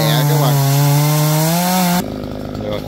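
A chainsaw cuts through tree branches, its engine holding a loud, steady high-revving whine for about two seconds before abruptly dropping to a quieter, rougher idle.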